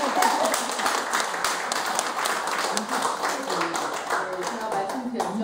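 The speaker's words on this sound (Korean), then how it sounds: "박수 우리 아버님" Audience at a Korean laughter-therapy session claps warmly for an attendee's father, a steady, moderately loud patter of hands lasting several seconds with voices mixed in.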